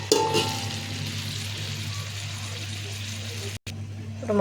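Chopped vegetables drop into hot oil and fry with a moderate, even sizzle over a low steady hum, with a brief cut near the end.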